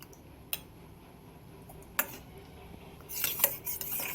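A spoon stirs vinegar and water together in a small bowl, giving light metallic ticks and clinks that grow into a quick burst of rattling at the end, quiet and close.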